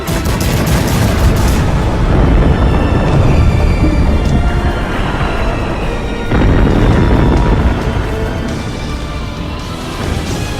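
A super cannon in a dwarf war game fires amid sustained battle noise, with a dense, loud roar of booms and rapid gunfire-like bursts rolling on for several seconds and swelling again partway through.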